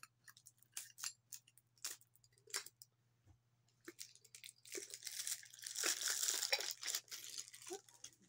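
Scissors snipping and plastic packaging crinkling and tearing as a Dollar Tree jar container is opened, faint and close, in short bursts growing into steadier rustling.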